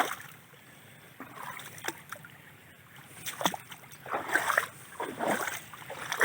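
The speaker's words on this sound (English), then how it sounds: "You can see how much water is going down this channel." Rainwater rushes down a deep channel during the rainy season, a continuous watery wash with splashy surges that swell and fade, heard close by.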